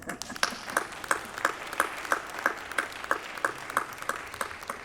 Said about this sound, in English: again the last round of applause for the winners